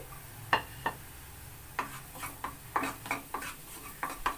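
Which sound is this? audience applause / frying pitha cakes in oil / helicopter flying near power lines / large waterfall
frying pitha cakes in oil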